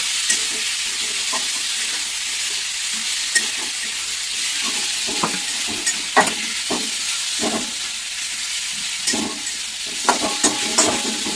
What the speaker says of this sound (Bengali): আমি এটা জাস্ট একটু তেলে হালকা করে ভেজে নিচ্ছি